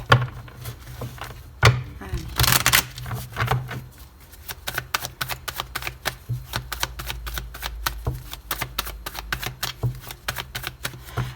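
A deck of tarot cards is cut and shuffled up close, producing quick papery flicks and clicks in irregular bursts, with a louder riffle early on and steady card snaps afterward.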